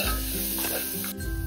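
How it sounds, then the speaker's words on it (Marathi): Masoor dal sautéed with spices in a pan, giving a close, continuous sizzle broken by scraping stirs of a spoon against the pan, with no voices. "आता अर्धा मिनिटासाठी ना ही डाळ आपण छान अशी परतून घेऊयात"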